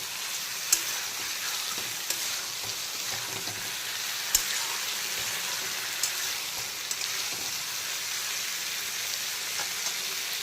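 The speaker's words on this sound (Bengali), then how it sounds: "এখন বেগুনগুলোকেও 3-4 মিনিট সময় নিয়ে একটু ভালো করে ভাজা ভাজা করে নিতে হবে" Brinjal pieces fry in oil with a soft, steady sizzle and crackle, broken by a few sharp pops and light stirring clicks. No one speaks.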